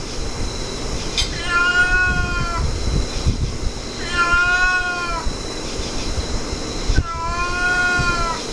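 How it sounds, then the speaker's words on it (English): A cat meows in drawn-out, wavering howls, three long calls spaced a couple of seconds apart, close to the microphone over a steady background hiss. "Now the cat's meowing."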